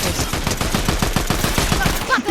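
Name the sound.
gunfire in the video game Fortnite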